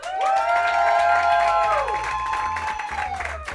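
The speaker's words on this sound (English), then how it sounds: "Clap right now if you think Sarah took it." Studio audience at a roast battle tournament qualifying round claps and cheers to vote for a contestant, loud crowd noise filling the room with some shouting, while sustained tonal music or voices ring over the top.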